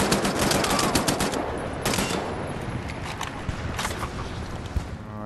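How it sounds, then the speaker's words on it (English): Enemy gunfire in the shooter game Wolfenstein: The New Order: dense, continuous automatic fire and crackling shots, loud and sustained, slowly thinning toward the end with scattered bursts and no talk. "They're still shooting and I'm not there."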